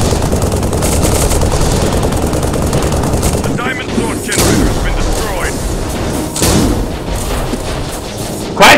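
Gunfire in the video game Tribes Ascend, rapid continuous shots and heavy blasts with a few short lulls, loud and close, a voice calling out over the shooting.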